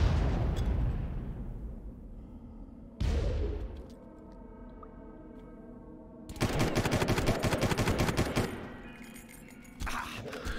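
Gunfire in the video game Far Cry: loud bursts of shots and booming impacts that cut in abruptly, separated by quieter decaying stretches, with a dense rapid volley later on.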